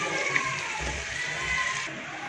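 Vinegar is poured into a pan of meat frying for Egyptian fatteh, producing a loud, steady sizzling hiss with a low splashing pour underneath, up close.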